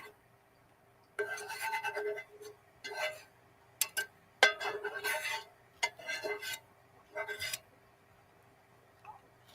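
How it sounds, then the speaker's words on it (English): Food being scraped off a camping cooking pan with a utensil, several close, rasping strokes in short bursts separated by brief pauses, with a metallic clink partway through. "Let's finish scraping this off."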